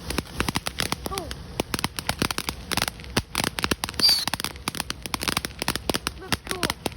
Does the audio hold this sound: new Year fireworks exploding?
yes